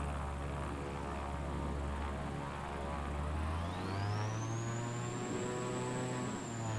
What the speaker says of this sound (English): You hear that supercharger?